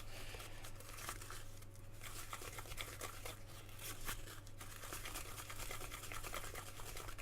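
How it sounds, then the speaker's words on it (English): A mixture containing PVA glue being stirred for a model tank base, a quiet, steady wet scraping and crinkling that continues without a break, close up and alone over a low background hum. "just give this a good stir, and we can use this as well to build up the detail as well for the other base"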